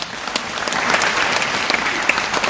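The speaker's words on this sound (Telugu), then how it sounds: "సో వాళ్ళందరికీ ఒకసారి చప్పట్లు కొడదాము." An audience at a Kuchipudi dance academy anniversary celebration in Hyderabad claps together, a dense burst of applause building and continuing for a couple of seconds.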